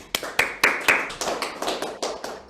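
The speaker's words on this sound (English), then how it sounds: "unmuted applause" A small group claps after a Chopin piano piece, with a few sharp, close, uneven claps that soon settle into softer, scattered clapping.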